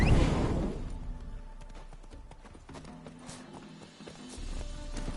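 Horse hooves clip-clopping in The Witcher 3, a steady rhythmic trot that is loud at first and then settles into a moderate, continuous gait with a brief snort or whinny possible.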